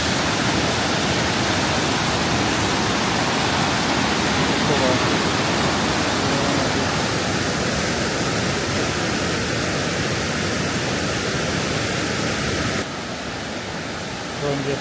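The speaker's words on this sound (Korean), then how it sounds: "여기 수정폭포고" Shuzheng waterfall in Jiuzhaigou, a wide cascade of fast-flowing water, roaring as a steady, dense, loud rush that continues without break and dips slightly near the end.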